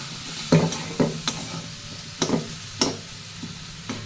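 Vegetables cooking in a pan with a little added water give off a soft, steady sizzle, broken by several sharp stirring clinks and scrapes spaced about a second apart.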